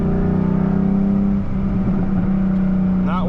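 A 2012 Ford Mustang fitted with a Boss 302 sidepipe and an SLP Loudmouth axleback, resonator deleted, holds a loud, steady, droning rev while the tires spin without grip, close up and continuous throughout.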